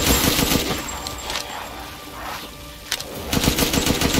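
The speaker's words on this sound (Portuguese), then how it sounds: "Essa arma aqui, essa metralhadora" Machine gun fire from the video game Resident Evil Village, heard as loud rapid bursts of shots near the start and again near the end. A quieter stretch of game ambience lies between the bursts.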